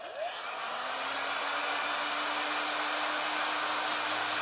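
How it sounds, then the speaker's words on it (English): Heat gun blowing steadily to dry paint on a candle craft project, a continuous loud airy whoosh with a faint whine, no talking. "Then I am going to hit just a little bit with the heat gun."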